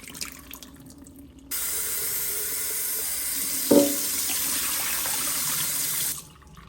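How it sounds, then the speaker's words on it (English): Cold tap water runs steadily onto a sprout mix being rinsed, a continuous close splashing hiss that starts abruptly, holds with a brief louder splash midway, then cuts off near the end. "we're basically going to take this and rinse it until the water runs"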